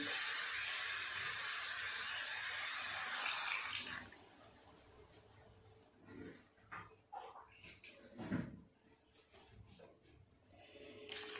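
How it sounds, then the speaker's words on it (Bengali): Water gushes steadily into a cooking pot of stirred vegetables and spices for a thin gourd, potato and prawn curry, a loud continuous pour lasting about four seconds, then quieter clinks and handling sounds follow. "এই রান্নাটা যেহেতু একটু পাতলা থাকবে, ঝোল ঝোল, সেই জন্য একটু বেশি করেই জল দিলাম।"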